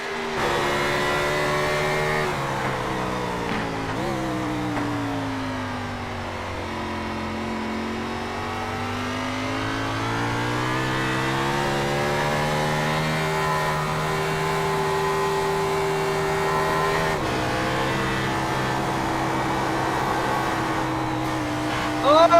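The onboard engine of the number 77 race car runs through a qualifying lap at Watkins Glen, droning steadily loud with rising and falling revs through gear changes and corners.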